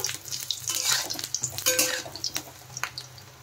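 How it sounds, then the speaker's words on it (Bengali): Small besan fritters made with potato and cauliflower fry in hot oil, a close crackling sizzle broken by clinks and scrapes of a utensil turning them over in the pan, busier early and tapering later; nobody speaks. "উল্টে পাল্টে কিন্তু ভালো করে লাল লাল করে একটু ভেজে নিতে হবে।"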